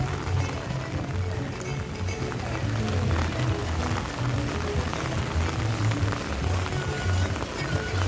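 Rain falls steadily at the Animal Kingdom theme park in the evening, giving a constant hiss of drops hitting surfaces around the listener, with people talking faintly in the background.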